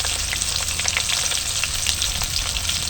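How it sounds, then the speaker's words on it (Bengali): Potatoes sizzle hard in hot oil with turmeric and chili powder, a dense, even crackle close up that runs without pause. "আমরা আলুগুলো একটু ভেজে নেব। আলুগুলো দিয়ে দেবো তেলের মধ্যে।"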